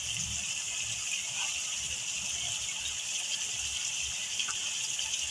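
Water poured into a pan of cooking qeema with tomatoes, a steady broad gushing and sizzling wash that holds at an even level throughout, close and moderately loud with no talk over it.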